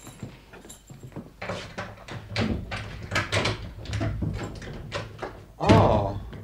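A bolted door in a Simenon-based radio drama clunks and thuds as it is unbolted and swung open, with a heavier knock near the end, against a dim background.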